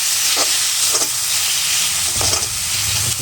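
Leafy greens fry in oil in a home-cooking pan, giving a steady, close sizzle and crackle with faint stirring scrapes and no voices.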